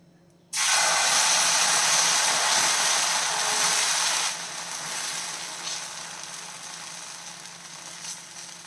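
Oats dosa batter hits a hot pan on medium flame and bursts into a loud, steady sizzle that fades a few seconds later to a softer, continuous frying hiss.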